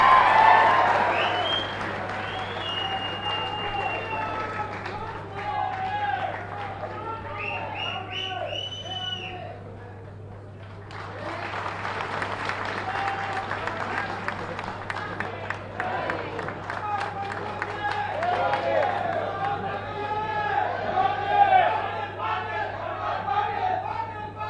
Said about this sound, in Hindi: आप तालियां बजा के स्वागत।